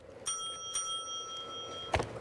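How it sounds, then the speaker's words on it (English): Two bright chimes of a bell mark the end of a speaker's time at an Illinois Republican primary governor debate, ringing at about a quarter second and three-quarters of a second, then fading, with a brief thump near the end. "the sound of a bell will ring when time is up"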